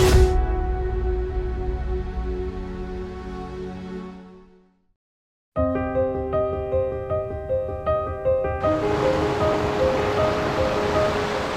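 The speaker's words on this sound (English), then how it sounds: "Just got to one of 2 river crossings so far" A river rushes steadily at a Colorado Trail river crossing as a loud, broadband wash of flowing water. It drops out briefly midway, then returns with rhythmic surging and a brighter roar.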